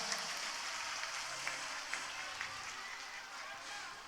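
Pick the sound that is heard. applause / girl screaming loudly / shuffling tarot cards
applause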